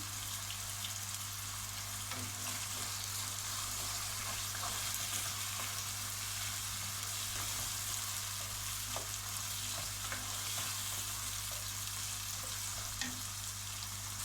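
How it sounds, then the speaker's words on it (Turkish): Red peppers are sautéed with onions in a pan for a vegetable pilaf, giving a steady, soft, continuous sizzle with faint occasional stirring ticks and pops, moderately quiet. "Şimdi kapya biberlerimi koyuyorum. Birazcık da ondan soteleyeceğim."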